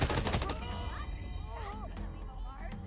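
Gunfire from Wasteland 3 as an enemy is shot: a quick loud rattle of rapid shots opens, then game effects and faint voices carry on underneath.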